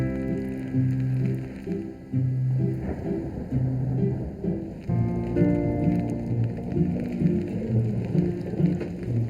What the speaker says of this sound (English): Wintry rains drench Yorkshire